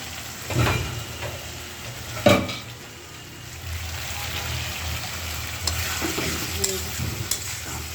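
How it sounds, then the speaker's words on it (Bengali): Folui fish curry sautéing in a pan, a continuous loud sizzle with a few stirring scrapes and spoon knocks against the pot. "তো এই যে আমার তরকারিটা ভালো করে কষানো হয়ে গেছে।"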